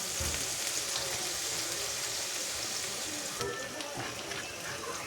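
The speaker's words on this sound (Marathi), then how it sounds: "कांदा टाकल्यावर आपण चांगला असा गुलाबी जरा थोडासा करून घ्यायचा कांदा" Onion frying in hot oil in a home kitchen, a steady, dense sizzle that stays close and loud throughout, with a brief shift in texture partway through as the pan is stirred.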